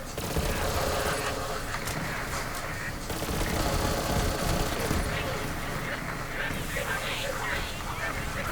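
Kyb's Worth, a legendary weapon in Borderlands 3, fires in dense, rapid bursts that continue almost without a break for about eight seconds. The game's sound effects and music play loudly underneath the shots.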